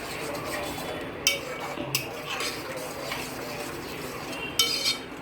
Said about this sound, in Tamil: இப்போது நல்லா கலக்கி விட்டோம்